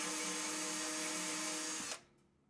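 Power drill boring into a part for a 7¼ inch gauge Sweet William model locomotive, a steady high whine running near and loud for about two seconds before cutting off abruptly.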